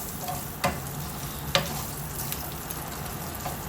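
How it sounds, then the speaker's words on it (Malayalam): Coconut pieces sizzle and fry in oil in a pan for pork fry, a steady close hiss broken by two sharp stirring clinks. "ഇനി ഞാൻ ചെയ്യുന്നത് നമ്മൾ നേരത്തെ കാണിച്ച തേങ്ങാക്കൊത്ത് ഒന്ന് ചെറുതായിട്ടൊന്ന് ഫ്രൈ ആക്കി എടുക്കാം"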